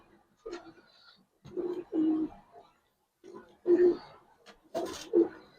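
Old-breed Giribaz pigeons coo in short, throaty bursts, several separate calls spaced across a few seconds, close and fairly clear against a quiet background.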